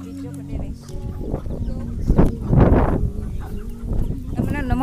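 Chickens cluck and squawk nearby, with a louder flurry in the middle, while people talk over the birds.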